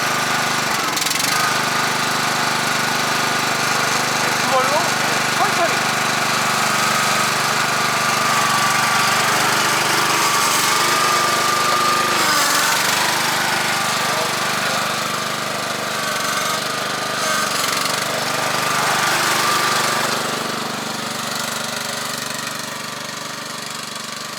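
A riding lawn mower engine runs loud and close with a rough, rattling, knocking drone that holds steady for the whole stretch.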